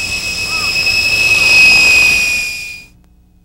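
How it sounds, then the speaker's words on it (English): A Kyosho HyperFly radio-controlled helicopter flies nearby with a steady high electric whine and rotor hiss that swells slightly, then cuts out abruptly near the end. "you'll also notice that the helicopter flies a little more slowly while it's gaining altitude"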